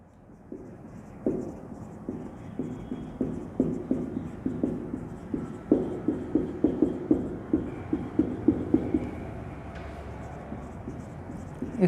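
A pen writes a null hypothesis by hand for a chi-square test, making a steady series of short scratching strokes on paper. The strokes come in a regular rhythm that gets busier in the middle, with faint background noise.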